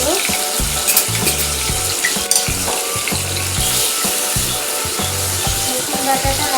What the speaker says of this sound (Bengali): রসুন বাটাটা হালকা নেড়ে